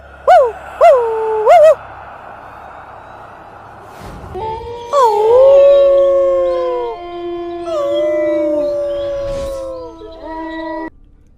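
Dogs and wolves howl through a dark, still night: three short rising yelps open, then long wavering howls with several voices overlapping, loud and fairly near, fading out at the end.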